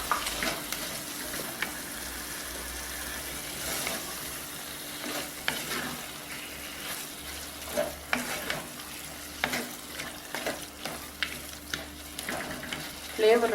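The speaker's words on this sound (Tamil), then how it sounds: "இப்போ நம்ம பன்னீரை சேர்த்துக்கலாம்." Paneer frying and being stirred in a tomato masala gravy, a soft steady sizzle with repeated scraping stirs and spoon knocks against the pan, close and fairly quiet.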